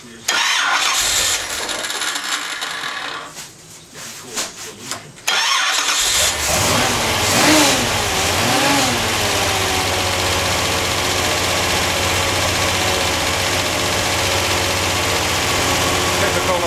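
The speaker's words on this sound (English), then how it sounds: "Hydraulic roller lifters, they clatter when you first start them up, but you'll hear that clatter go away." A 540 big-block Chevy V8 cranks over for several seconds, then fires up and settles into a loud, steady idle with a rattly clatter from hydraulic roller lifters.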